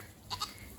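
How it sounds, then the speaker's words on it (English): A goat in a homestead pasture gives two quick, close bleats in succession, short and fairly loud against quiet outdoor background. "So there's a goat"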